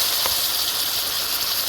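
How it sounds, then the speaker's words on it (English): Curry chicken fries in a pan with a steady, loud hiss of sizzling oil, continuous and close throughout. "frying down your curry some"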